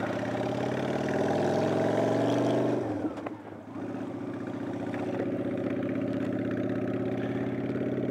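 A motorcycle ridden at night on a test drive holds a steady engine drone close by, dips briefly as if easing off, then settles back into an even hum.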